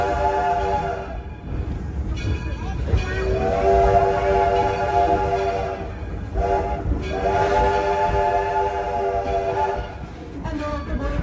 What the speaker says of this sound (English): the locomotive that's pulling our train right now is the Edison